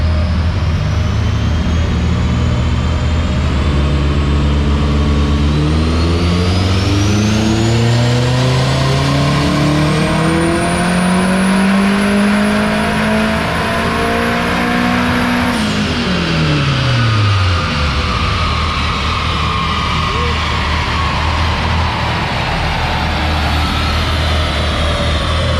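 A turbocharged Honda K24 car engine revs hard on a dyno at 12.5 PSI, pitch climbing steadily through a long, loud pull before the throttle lifts and the revs fall away, leaving a rushing whoosh.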